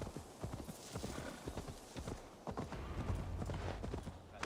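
Horse hooves clip-clop in a steady, quick rhythm while riding through a town in Assassin's Creed Valhalla, close and clear, with a low rumble underneath.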